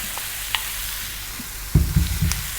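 Faint sizzling of oil in a pan, then a burst of rustling and crackling as mushrooms are tipped in and stirred, with no talking.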